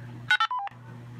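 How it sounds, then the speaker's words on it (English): PTT ID tone from a Baofeng dual-band radio: a quick burst of about five DTMF-style beeps, sitting clearly over a steady low electrical hum that returns afterward. "When you're done transmitting, it will have a PTT ID."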